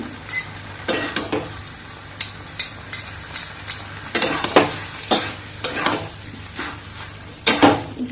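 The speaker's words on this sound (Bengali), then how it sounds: "কাঁচা লঙ্কা দিয়ে আবার দু মিনিট কষিয়ে নিয়ে এর মধ্যে দিয়ে দেবো ঘি" Ash gourd stir-fried with green chilli and ghee, with a spatula scraping the pan in quick, uneven strokes over a steady soft sizzle, close and clear with no talking.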